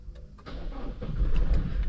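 A 2023 Toyota Fortuner Legender's engine starts up nearby, a short crank catching into a rising idle that grows louder and settles into a steady hum.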